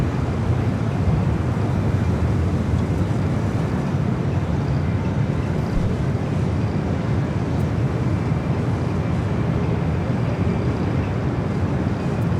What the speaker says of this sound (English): Hawaiian A330 flight coming in from Honolulu, flight 810